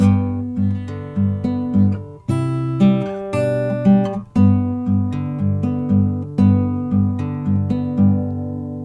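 A fingerpicked acoustic guitar plays the verse of a song in a steady, rolling pattern of bass notes and plucked chords, clear and close with no voices.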